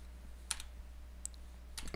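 A few quiet keystrokes tap on a computer keyboard while a website address is entered, one isolated click followed by a short quick burst near the end over a steady low hum.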